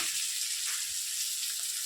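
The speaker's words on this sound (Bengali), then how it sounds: "এই কড়াইটার মধ্যে আর দুই টুকরা মাছ রয়েছে এটা দিয়ে দিব তেলটা একদম কম দিয়া দিয়া দিন আমি ভাজতেছি" Fish pieces sizzling in a wok with only a little oil, a steady close frying hiss that holds evenly throughout with no voices.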